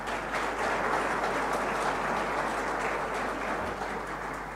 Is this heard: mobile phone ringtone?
no